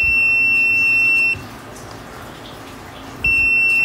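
A multimeter test probe touching a shorted circuit in a power tool battery charger sets off steady continuity beeps, sounding at the start, cutting out for about two seconds, then resuming, loud and close over faint background noise.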